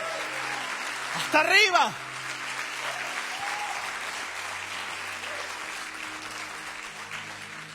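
A church congregation claps during a sermon, with a brief loud burst of applause early on, then fading under a preacher's voice that continues throughout.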